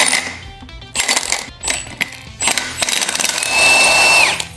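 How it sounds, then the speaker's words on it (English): A high-power driver with a socket strains against the clutch basket nut on a 1996 Kawasaki ZX6R being parted out, loud bursts of whirring and rattling impacts with metallic clinks, ending in a sustained whine. "We have the big high power driver and the right socket."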